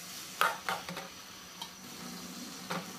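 Bottle gourd cooks with lentils in a pan under a quiet sizzle, while a few short, sharp stirring scrapes and taps of a spoon come close by, with no speech.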